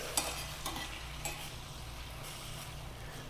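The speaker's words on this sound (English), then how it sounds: "we're going to take a little bit of red cooking wine just to deglaze the pan" Portobello mushrooms sizzle quietly in a steel pan deglazed with red cooking wine, a low continuous hiss broken by a few light scrapes as they are tossed around.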